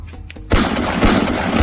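A toy Gatling machine gun opens up after a quiet half-second and rattles on loudly and continuously as a dense, steady burst of rapid toy gunfire.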